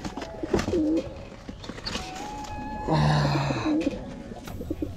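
Pigeon with feathered feet and a crest cooing in a few rolling calls close by, amid rustling, bumps and background noise, with no talk over it.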